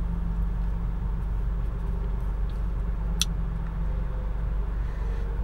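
Steady roadside traffic rumble of cars driving by, continuous and fairly loud, with a brief high chirp partway through and no talking.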